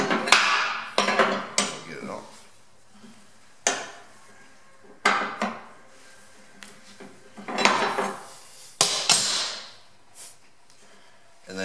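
Metal strikes ring out on a John Deere 100-200 series mower deck spindle during a rebuild, sharp clanking hits in irregular bursts with pauses between, close and loud, several impacts over about ten seconds.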